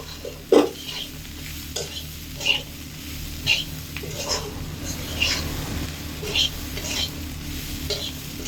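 Spiced chickpea masala for ghugni is sautéed in a pan, with a low sizzle under repeated scraping and clinking strokes of a spatula at a loose, roughly once-per-second rhythm. A faint voice murmurs in the background.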